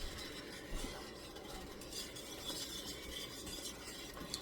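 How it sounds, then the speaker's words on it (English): Egg drop soup is given a gentle stir in a pot over medium-low heat, a quiet, steady swishing with soft utensil scrapes under a low simmering hiss. "And we're going to give it a little stir."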